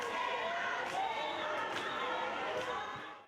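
A large crowd of protesters outside Parliament, a broad roar of many voices with scattered shouts and a few sharp thuds, moderately distant and fading at the end.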